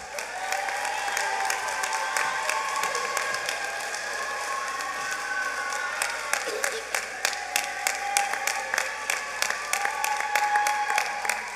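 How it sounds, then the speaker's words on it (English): Steady audience applause for the class of 2021 valedictorian at the Baltimore Design School graduation, even clapping from a sizable crowd heard at a moderate distance, with a few distinct claps standing out near the end. "Please give a round of applause to our valedictorian of the class of 2021, Ms. Anaya Gardner"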